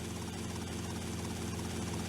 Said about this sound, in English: so we're gonna slam the helicopter outside of his mansion